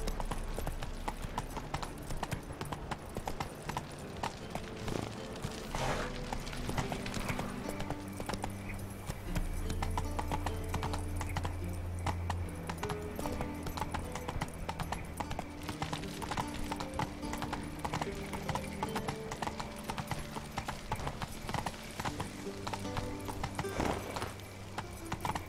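A horse gallops in The Witcher 3 video game, steady rhythmic clip-clop hoofbeats running throughout with occasional neighs, layered over soft game ambience and music at moderate volume.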